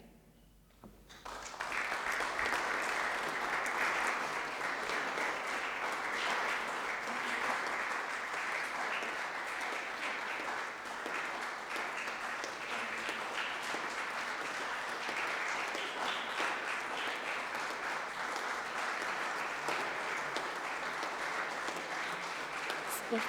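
At a university rector's inauguration ceremony, a hall audience starts clapping after a brief quiet and keeps up steady, dense, sustained applause for over twenty seconds.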